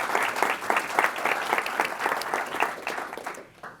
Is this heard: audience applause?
yes